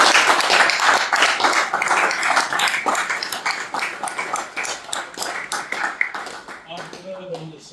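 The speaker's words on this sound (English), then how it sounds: "Can we have a full round of applause?" Applause from a business networking meeting audience, a dense burst of many hands clapping that gradually thins and fades toward the end, with a few voices emerging as it dies away.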